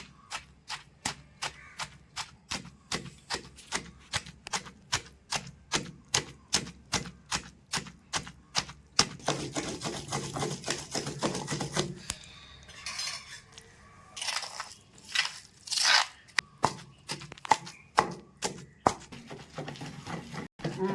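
Tomato chutney is pounded in a stone mortar with steady, evenly spaced thuds for about ten seconds, then a rougher grinding stretch, then more irregular knocks. A voice is heard faintly at times.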